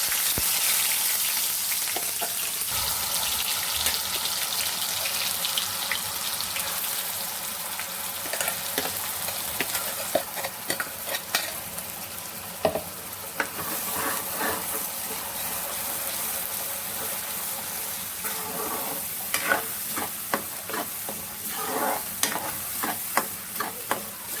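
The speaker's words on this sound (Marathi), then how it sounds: "आता आपलं तेल तापलंय आता आपण मसाला टाकूया" Masala dropped into hot oil in a kadhai for homestyle dry chicken, a dense continuous sizzle and hiss with scattered stirring scrapes and clicks throughout, close and steady, no speech.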